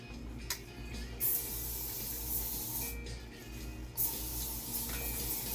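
Long bursts of aerosol glow paint spray hiss loudly, pausing briefly between passes, with a low background hum and no talking.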